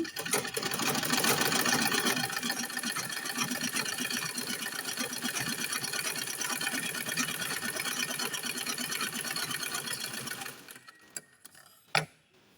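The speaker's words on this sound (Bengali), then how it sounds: "কিভাবে দেখছো সেলাই করতেছি" A sewing machine stitches a kameez with a fast, even mechanical whir for about ten seconds, then stops, leaving a few faint clicks and one sharp knock.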